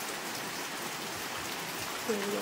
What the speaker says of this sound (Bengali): আর বৃষ্টি মানে থামাচ্ছে না